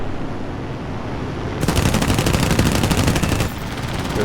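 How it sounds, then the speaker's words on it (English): Aircraft machine guns fire in the War Thunder video game during an arcade air battle in an H-81A-2 fighter, a loud sustained rapid-fire burst rising out of steady engine drone and cutting off abruptly. "Somebody was shooting at me there."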